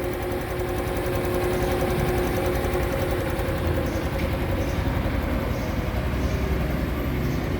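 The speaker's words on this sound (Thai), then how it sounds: "อันนี้สตาร์ทเครื่องแล้วนะครับนี่ เครื่องนี้เงียบนะฮะ" A 2025 Honda Wave 125i motorcycle with alloy wheels idles steadily right after starting, its low engine hum continuous and fairly quiet throughout, close by with no talking.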